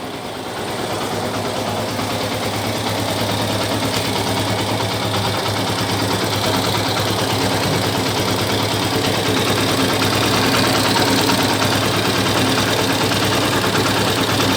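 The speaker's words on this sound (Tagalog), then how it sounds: "Itatapat ko dun sa engine itong aking camera para malaman natin kung nawala yung noise." A car engine idles steadily after a rattle repair, a close, even mid-low hum with a faint regular pulse and no knocking or talk throughout.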